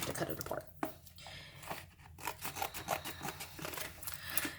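Scissors cut apart a cardboard sticker book box, with snipping, crinkling and scraping close by while a person speaks over the cutting.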